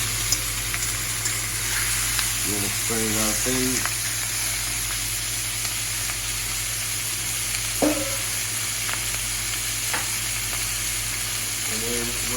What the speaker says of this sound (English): we're just gonna drop in our pork. As you can see, it'll sizzle.